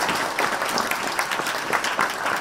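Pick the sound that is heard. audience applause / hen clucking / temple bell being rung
audience applause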